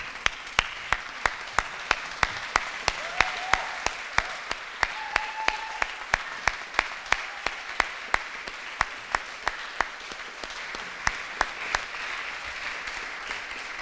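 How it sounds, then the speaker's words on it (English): Applause from an awards-gala audience standing for three honorees, dense steady clapping that holds for the whole stretch with sharp individual claps popping out near and a few faint voices underneath. "a round of applause."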